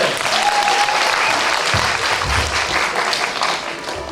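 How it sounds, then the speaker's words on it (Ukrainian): Loud, close audience applause fills a Valentine's Day event at a Zolochiv college as a guest is called to the stage, rolling on steadily and easing off at the end. "Аплодисменти!"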